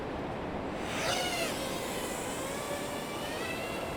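Drone flying over the coast at Portreath, a faint airborne whine with a tone that sweeps in pitch, heard distantly over steady wind and outdoor noise.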